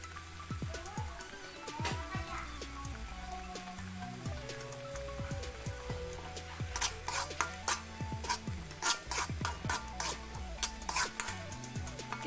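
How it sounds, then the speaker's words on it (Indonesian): A spoon stirs spice paste with kaffir lime leaf in a hot pan for spicy mercon meatballs, giving soft scraping and clinking over a faint sizzle, with quicker, sharper taps toward the end. "Kita aduk-aduk sampai kadar airnya menghilang atau tersisa sedikit saja."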